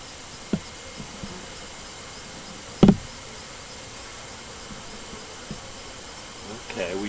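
Honey bees in an opened hive give a low, steady buzzing hum under faint background noise, broken by a few sharp knocks from frame handling.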